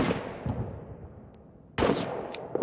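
Two bursts of automatic gunfire in a war video game set in the trenches, loud and close, each sharp onset followed by a long decaying echo and a pause between.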